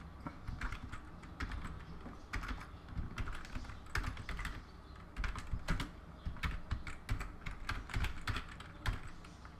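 Fast, steady typing on a computer keyboard, with dense rhythmic key clicks and occasional heavier taps, close and clear with no talking.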